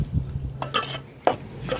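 Bottle gourd curry being stirred in a frying pan, with a soft steady sizzle and a few scraping strokes of a spoon against the pan, close up and alone.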